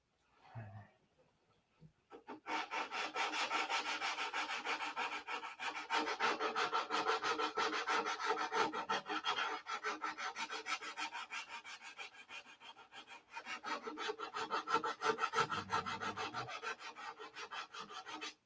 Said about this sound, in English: Sands a lot better when it's dry.